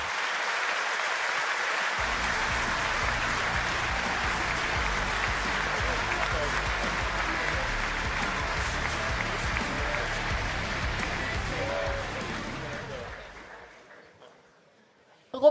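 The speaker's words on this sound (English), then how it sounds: "And I think one big applause for Zurich" An audience applauding the Zurich team at a Formula Student team welcome, a dense, steady ovation that runs for about twelve seconds before fading out.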